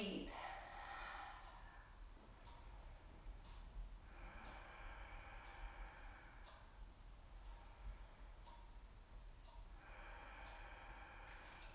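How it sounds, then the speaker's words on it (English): Slow, audible Ujjayi breaths during a kneeling yoga practice, long soft hissing inhales and exhales repeating in a steady rhythm, quiet and close. "Connect with the Ujjayi breath"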